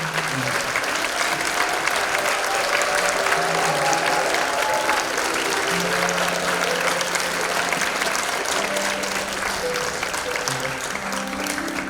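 An audience at a Korean talk show on Crime and Punishment applauds to welcome a guest speaker, a continuous, full wash of clapping lasting about twelve seconds with faint tonal music beneath it.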